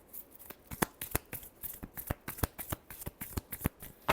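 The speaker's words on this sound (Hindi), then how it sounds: "Last shuffle." A deck of tarot cards is riffled and shuffled by hand in quick, sharp flicks that repeat in an uneven run of close, crisp snaps, with no one speaking.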